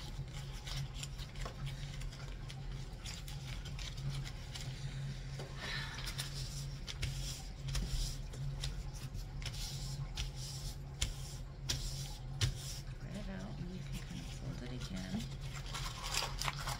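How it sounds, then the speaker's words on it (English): Paper for momigami is scrunched and tossed from hand to hand, making continuous close crinkling and rustling that runs under a person talking throughout. "And kind of give it a good scrunching. You're supposed to toss it from hand to hand"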